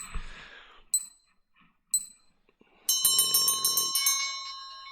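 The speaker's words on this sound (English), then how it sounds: "There's the opening bell." Nasdaq stock market opening bell: a few isolated dings, then a rapid run of bright, ringing metallic strikes that continues for about two seconds, fairly close and clear.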